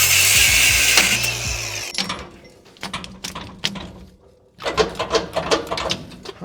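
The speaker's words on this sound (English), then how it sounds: "So I'm gonna cut off all the U-bolts that hold the leaf spring to the axle." Power tool cutting through leaf spring U-bolts on a Toyota 4Runner axle, a loud steady grinding whine for about two seconds, then stops and bursts of clanking, ratcheting mechanical noise follow.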